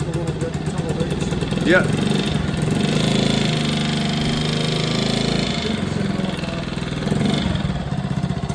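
Classic motorcycle engine turning over with the choke set, then settling into a steady low idle, close by, under a constant broadband hiss, with a person talking briefly over it.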